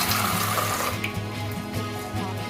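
Running water splashes steadily as red lentils are rinsed under a tap, with a low mechanical hum beneath and no voices.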